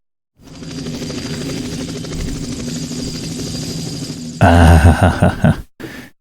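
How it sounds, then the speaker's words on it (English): A helicopter in the WinSPMBT war game drones with a steady rotor buzz for several seconds, then a louder burst of blade thumps and engine noise before it cuts off abruptly. "And we'll bring the chopper forward a little bit."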